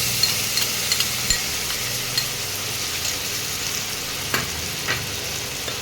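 Ginger, cumin and green chilli paste frying in simmering dal, a steady close sizzle with occasional sharp clicks of a spoon stirring against the pan.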